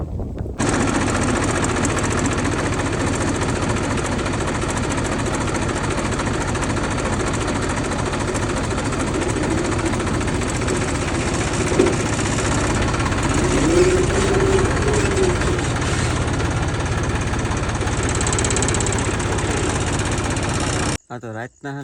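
A tractor engine runs on a farm field with a steady, loud, close chugging drone that holds for about twenty seconds before cutting off abruptly.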